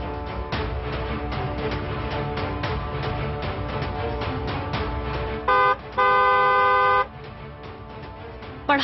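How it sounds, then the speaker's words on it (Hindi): Repeated car horn honks, a few long sustained blasts, over a dense rhythmic musical backing. "हॉर्न बजाया जाए"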